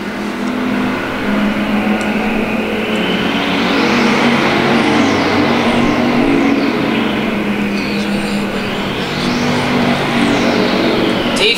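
Race cars at Thunder Hill Speedway roar continuously around the oval in a close two-car battle, engines loud and near with rising and falling pitch as they pass, no talk.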